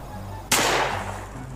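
A single sharp blast from a Spart 12 replica gun modeled on the Free Fire game weapon, fired in real life; one loud crack with a short decaying tail, close and alone.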